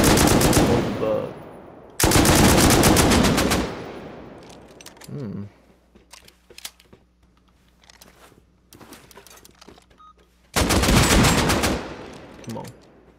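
Loud, close machine gun bursts in Rust: two long sustained volleys, quieter scattered shots and clatter, then another heavy burst.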